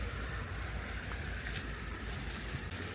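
Steady, broad rushing wind blows outdoors in a rural vegetable garden with banana leaves, a cold dry gust roaring continuously against the microphone with no pauses.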